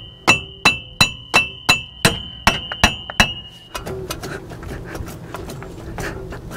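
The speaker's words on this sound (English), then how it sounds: "I'm just gonna tap on this guy a little bit and it should come right out." A hammer strikes metal while tapping out the front wheel hub of a Ford F350 truck: about nine sharp, ringing blows at an even rhythm, then softer, quicker knocks and scraping.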